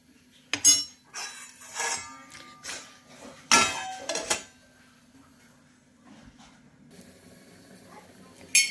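Metal spatula clinks and scrapes against a pan while chicken with green chilli paste and a little added water is stirred, in several close bursts during the first half, then quieter soft rattling.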